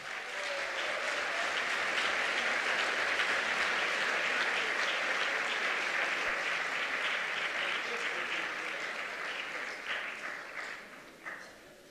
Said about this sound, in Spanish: Fuerte el aplauso para Pablo Iglesias